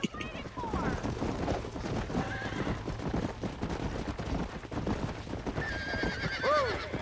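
Horse neighing and whinnying over busy galloping hooves in the Western video game Red Dead Redemption, with a loud whinny near the end and people talking throughout.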